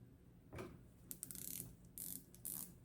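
The bezel of a Pagani 1671 dive watch, a Tudor Black Bay 58 homage, is turned by hand, giving a quick series of faint, close, crisp ratcheting clicks in short bursts.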